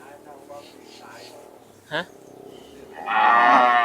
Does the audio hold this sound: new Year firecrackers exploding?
no